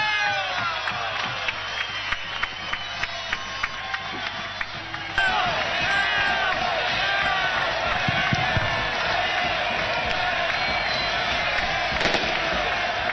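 Large outdoor crowd at a Cochabamba political rally for Evo Morales, roaring and clapping continuously and loudly, with sharp firecracker-like pops scattered through the first half and a denser wash of cheering afterward.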